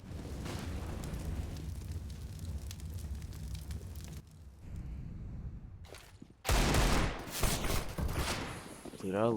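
Rapid gunfire bursts from a competitive shooter game during a relegation esports match, loud and dense, with a brief lull before a sharper, louder volley near the end, heard under continuous commentary.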